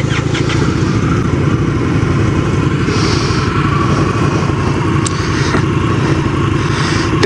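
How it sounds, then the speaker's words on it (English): A 1987 Honda Rebel 250 motorcycle engine runs steadily close by with a quiet exhaust, a continuous low throbbing idle that holds without pause, no talk over it. "Damn, that exhaust is too quiet. I can hear Barney over my bike."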